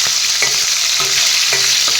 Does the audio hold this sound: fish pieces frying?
yes